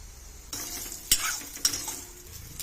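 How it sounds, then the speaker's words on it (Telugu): Peanuts, fresh coconut pieces, cumin, garlic and coriander fry in a pan for coconut-peanut chutney, giving a steady close sizzle with a few sharp scraping stirs. "త్రీ మినిట్స్ వరకు వీటిని ఫ్రై చేసుకోవాలి"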